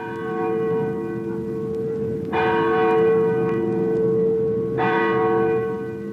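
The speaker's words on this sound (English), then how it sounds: "Park Street Congregational Church, constructed in 1809, whose steeple bell you hear in the background" Steeple bell of Park Street Congregational Church in Boston, built 1809, tolling twice with long ringing decays over a steady background hum, heard at a moderate distance without speech.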